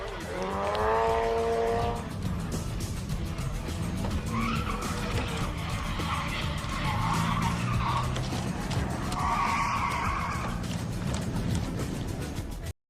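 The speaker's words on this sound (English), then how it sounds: "Mick feels a victory burnout is well justified, while James drowns his sorrow in a donut." Loud, sustained tyre skidding from a car doing a burnout at a drift event at Oran Park, the engine roaring steadily with screeching rising and falling throughout.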